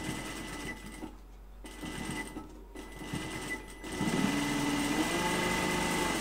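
Fabric face masks being sewn on a binding machine, a sewing machine motor that whirs in short runs broken by pauses, then settles into a steady, louder run near the end.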